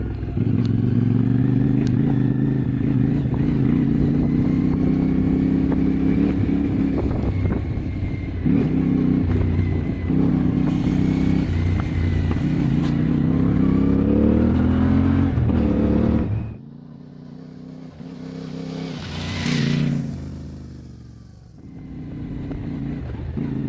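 A stock CFMOTO 450MT IBEX450 adventure motorcycle climbs a mountain trail, its engine droning loud and steady with rattling clatter before dropping off, then briefly revving and settling again.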